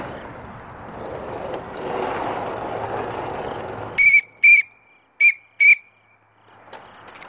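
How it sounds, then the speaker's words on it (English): Four sharp, loud whistle blasts blown by mouth, two close together then two more, cutting through steady wind and rolling noise from a rider heading into a tunnel. "I have a whistle in my mouth."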